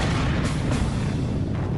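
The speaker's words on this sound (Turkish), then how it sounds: "Ama arabayı sadece eğlence için havaya uçurmadılar." A car blown up in a Hollywood-style explosion staged for a film scene: a loud, dense roar of blast rumble and crackling debris that fills the whole stretch without a break.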